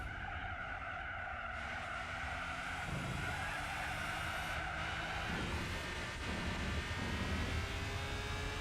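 A Porsche race car in Gran Turismo 4 at the Motegi 8 hours endurance race runs with a steady, loud engine drone and tyre squeal, its pitch shifting through gear changes over several seconds.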